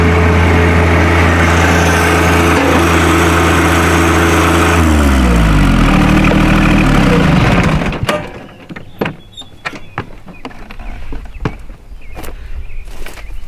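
A John Deere 1025R compact tractor's small diesel engine idles steadily and loudly, then shuts down partway through, leaving scattered clicks and quieter background noise.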